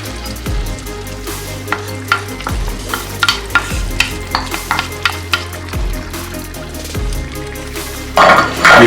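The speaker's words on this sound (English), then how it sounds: "And now we put 600 gram of tomatoes inside." Tomatoes, 600 grams, go into a hot pan with meat for a Greek pastitsio sauce, sizzling steadily while a spoon stirs and scrapes against the pan in repeated strokes, with a louder sizzle burst near the end.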